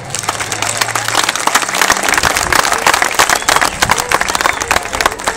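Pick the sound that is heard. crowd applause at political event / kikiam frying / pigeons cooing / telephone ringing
crowd applause at political event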